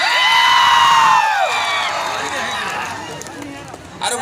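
A live comedy show audience cheers and shouts loudly, with whoops and mixed voices from a large crowd swelling at the start and then fading into a quieter hum of chatter.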